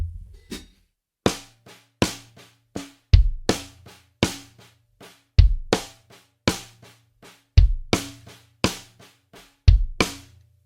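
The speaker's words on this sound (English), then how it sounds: "I'm going to play you that phrase on the snare so you can hear it." A drummer plays a right, left, left, kick phrase on snare and kick drum, sharp snare strokes alternating with deep kick thumps in a steady repeating pattern, close and loud with no talking.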